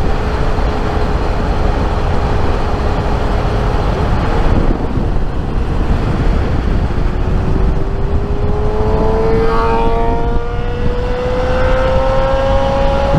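A Suzuki SRAD 1000 motorcycle accelerates along a highway at night. Heavy wind roar runs throughout, and the engine note climbs steadily in pitch during the second half.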